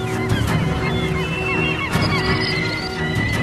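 A flock of birds honks over Japanese fishing boats trawling ice floes for salmon and pollock, with calls coming repeatedly and overlapping in a dense, steady chorus.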